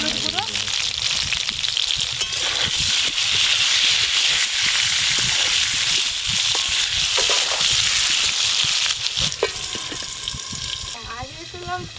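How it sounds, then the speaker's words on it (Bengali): Potatoes frying in hot mustard oil in a home kitchen while chicken kosha is being made, giving a steady loud sizzle with stirring clatter throughout, and people talking over it now and then. "কষার জন্য আলুগুলো খুব ভালো করে ভেজে নেব।"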